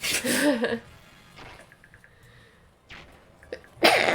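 A loud, close sneeze bursts out at the start, followed by quiet breathy sounds and small noises, then a second loud burst at the end, with no talking.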